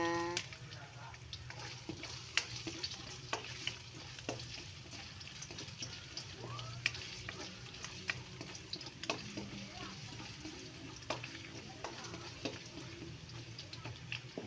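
Ginger cooks in a pan for chicken tinola, a soft steady sizzle with scattered clicks and scrapes of stirring, fairly quiet throughout.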